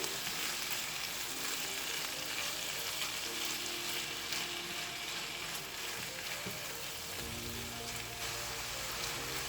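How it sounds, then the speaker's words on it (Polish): Chicken sizzles and fries steadily in a pan together with spinach, onion and garlic, with some stirring; a constant close crackle runs the whole time with no talk. "Smażę jeszcze przez minutę."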